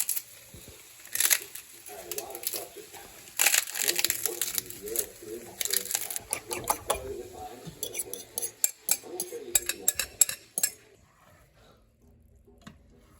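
Onions and garlic sautéing in a home-cooking pan, with the scrape and clatter of a utensil stirring against the metal and some crackling, under faint background voices.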